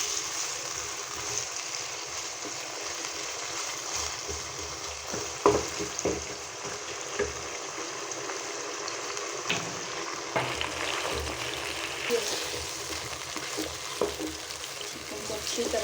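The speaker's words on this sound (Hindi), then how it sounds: "लेकिन 5-7 मिनट हम ऐसे घी में चिकन को फ्राई करेंगे।" Chicken pieces fry in hot ghee in a karahi, a steady close sizzle with occasional louder pops and scraping stirs throughout.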